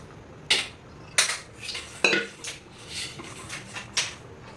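A spoon scrapes and clinks against a pan while water is stirred into a chickpea leaf curry, several sharp metallic knocks spaced irregularly over a quiet kitchen background.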